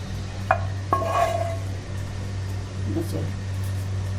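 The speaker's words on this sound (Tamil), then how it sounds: "இந்த பழமெல்லாம் போட்டு கலக்கிக்கிட்டு இருக்க பாருங்க ஒரே டைரக்ஷனில் தான் கலக்கணும்" Eggless plum cake batter with dried fruits and nuts is stirred in one direction in a bowl, giving two light utensil clinks against the bowl and soft scraping over a steady low hum.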